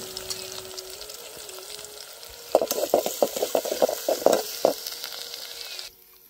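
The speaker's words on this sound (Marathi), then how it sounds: "कांदा छान असा लाल लाल येऊ द्यायचा आहे." Onion frying with garlic and cumin crackles steadily, with a cluster of louder stirring scrapes in the middle before the sound cuts away.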